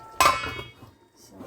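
A metal lid set onto a cooking pot of ginataang manok (chicken in coconut milk), one sharp close clank with a short ringing decay, then quiet.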